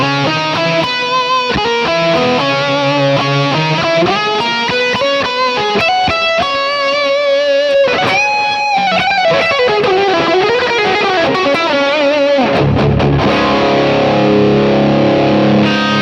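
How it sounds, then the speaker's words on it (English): Heavily distorted electric guitar through a Rat distortion and low octave pedal into an AC30 amp, playing a busy lead line with bends and sustained notes, loud and continuous with no talking. "I've just thrown in a rat distortion in there and a low octave to give me that sound."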